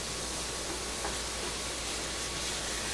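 Garlic sautéing in a hot pan, a steady, even sizzle with a soft hiss that holds at a constant low level throughout without breaks.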